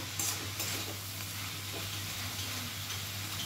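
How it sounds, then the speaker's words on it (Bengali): Cabbage and tomato cook with a hilsa fish head in a pan as a spoon stirs them. The steady, fairly quiet sizzle and hiss carries light scraping, with no voices. "আমি একটু নাড়াচাড়া করে নেব"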